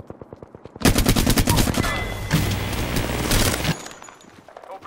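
Loud automatic gunfire in a squad-based shooter video game, rapid bursts of machine gun shots running nearly continuously for about three seconds after a brief quiet start, then stopping abruptly.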